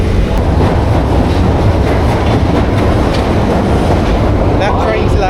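A London Underground Central Line train pulls out of the station, loud and close, with a sustained rumbling roar and rattling wheels that continue throughout and a faint squeal near the end.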